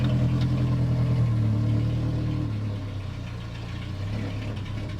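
An engine-swapped 1979 Toyota Corolla rumbles loudly and steadily at close range, its low drone easing slightly partway through.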